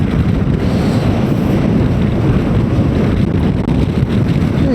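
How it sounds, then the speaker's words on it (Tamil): Strong, steady wind from a passing lorry roars and buffets the microphone of a motorbike rider on the road, a loud continuous rumble with no voices. "லாரி போனது காற்று பயங்கரமாக அடிக்குது."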